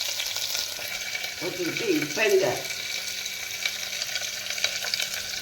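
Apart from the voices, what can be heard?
curry leaves sizzling as they are added to hot oil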